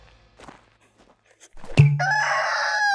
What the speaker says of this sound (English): now I'm gonna go bonk them on chickens and hatch them both